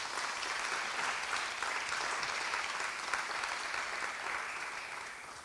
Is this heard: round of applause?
yes